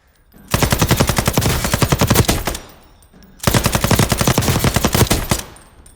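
Two long bursts of rapid machine-gun fire from a 100-round belt-fed weapon in the Warzone video game, loud and close, with a short pause between bursts and no talking.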